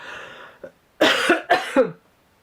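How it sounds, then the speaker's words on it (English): After a brief exhale, a person coughs twice in quick succession, close and fairly loud, followed by quiet. "sorry, I'm going to cough"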